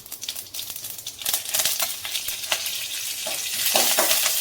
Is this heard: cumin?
yes